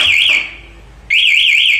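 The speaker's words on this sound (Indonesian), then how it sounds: "alarm langsung bunyi pada saat begal" A loud motorcycle anti-theft alarm on a Yamaha R15 VVA warbles in a rapid rising-falling tone, cuts out for a moment, then starts again just as loudly.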